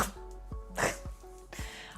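A single sharp sneeze bursts out close to the mic during a relaxed session of painting D&D miniatures, with soft breathy vocal sounds just before and after it.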